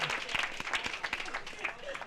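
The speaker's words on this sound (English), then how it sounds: "Please give yourselves a round of applause" An audience at a community legacy weekend event claps in a brief, scattered burst of applause, fairly quiet and somewhat distant, with a voice speaking over part of it.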